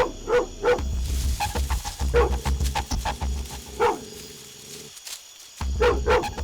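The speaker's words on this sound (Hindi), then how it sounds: "और वो भी मुझे ही देखकर किस तरह से भौंक रहा है।" A dog barks repeatedly in an action movie scene, with loud bursts and whimpering yelps spread across the clip and brief pauses between them, set against a low rumbling music or effects bed.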